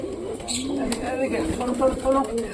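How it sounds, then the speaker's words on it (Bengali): Pigeons cooing close by in a pet loft, soft repeated low coos in a rhythmic pattern, with a voice talking over them. "তো এইবার টোটালি সবকটা পায়রাকে আমি এখানে দেখতে পাচ্ছি"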